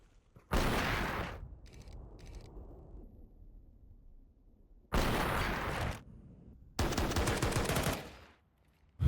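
Bursts of USP pistol fire in a Counter-Strike match, three dense loud volleys of rapid shots separated by short lulls with faint rumbling decay between them.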